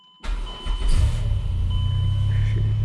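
A 2008 Chrysler Pacifica engine cranks briefly and catches almost at once, settling into a steady, fairly loud idle that runs to the end.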